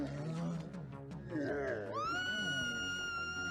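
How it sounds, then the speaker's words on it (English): A woman in the animated film Paranorman lets out a long, loud, high-pitched scream that starts suddenly after some muffled talk and holds steady to the end. "That is a good scream."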